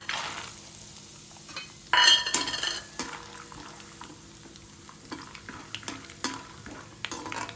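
Poha frying in hot oil in a pan for chivda, with a soft steady sizzle underneath and intermittent scraping and clinking as a utensil stirs against the pan, including one louder burst of activity early on.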